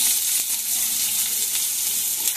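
Chopped onions frying in hot oil with tempered curry leaves, black cumin and cumin seeds, giving a steady, loud, close sizzle throughout.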